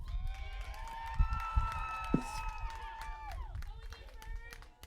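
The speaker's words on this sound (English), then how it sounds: "Smith gets a loud cheer from this crowd" At a high school softball game, the crowd cheers and claps for a senior batter in her final home game while a play-by-play voice talks over the noise.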